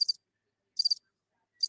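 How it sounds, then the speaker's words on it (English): Crickets chirp as a sound effect, three short, high, trilling bursts evenly spaced with silence between them. "Crickets."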